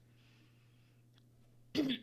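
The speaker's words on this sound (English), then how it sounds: "Sorry, cough." A single harsh cough bursts out near the end, loud and close, after a stretch of quiet room hum with faint background noise.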